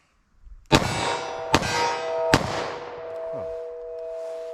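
Three sharp handgun shots ring out in quick succession, firing 9mm +P or .38 Special +P Double-Tap Bonded Defense ammunition from a short barrel, each crack close and loud with a long ringing decay.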